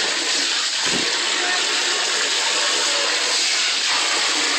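Steady, loud rush of water pouring from a faucet that a hyacinth macaw has turned on, continuous for several seconds at close range, with a brief thump near the start.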